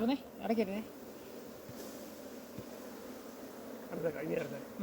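Dense, steady buzzing of a bee colony during a hive split, a continuous drone throughout, with brief voices talking over it at the start and near the end.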